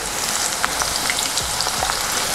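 A large chopped onion fries in hot oil with a steady, close, crackling sizzle and scattered pops, alone with no talking.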